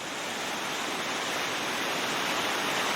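Dense, continuous roar of river rapids at Gap Falls, water pouring over river left into a churning hole on a class 4 stretch, close and steady with no voices.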